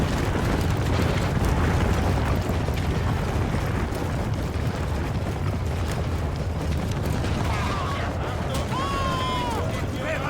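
Massed musket volleys and battle din from Napoleon: Total War with ultra-sized armies, a continuous loud crackling roar of distant firing throughout, voices speaking over it.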